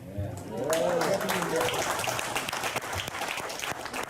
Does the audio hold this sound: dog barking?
no